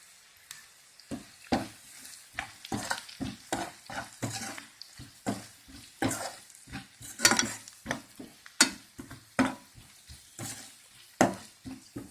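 Boiled mutton keema frying in a pan with salt and turmeric, stirred in a loose rhythm of scraping strokes over a quiet sizzle, close and fairly clear with no talking.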